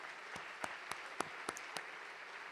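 Sparse, fairly faint applause from an audience at a State of the City address, a few distinct sharp claps over a soft background hiss.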